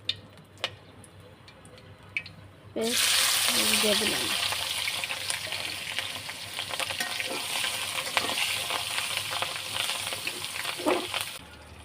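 Whole cardamom, cinnamon and bay leaf drop into hot oil in a village clay pot for khichuri, setting off a sudden loud, steady sizzle that fills the rest of the span before cutting off near the end.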